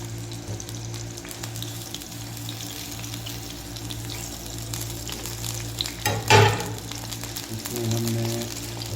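Tomatoes frying on a high flame in a pan, a continuous sizzle with a brief louder burst of spattering and stirring midway, without talking.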